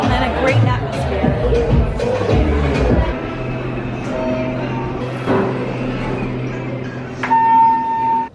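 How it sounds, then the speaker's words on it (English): Evening crowd chatter on the Aventura Hotel rooftop bistro, a steady babble of many voices with music and occasional louder bursts, thinning slightly partway through but staying lively throughout. "Looks like a lot of the crowd's clearing out later into the evening, but still a nice amount of people and a great atmosphere."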